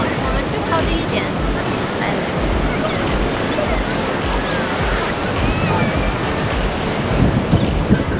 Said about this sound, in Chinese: 今天的风很大，所以浪很大。